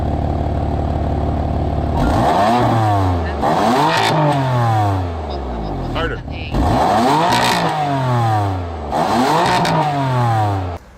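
A 2015 BMW M3 with a 425-horsepower engine revving hard in four separate bursts, each climbing sharply then falling back, loud and close, with brief quieter pauses between and a voice speaking over parts of it.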